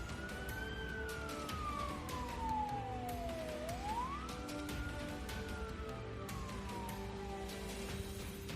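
An ambulance siren wails loudly and continuously, sweeping down slowly then rising again in a long cycle, with vehicle noise underneath and no one speaking.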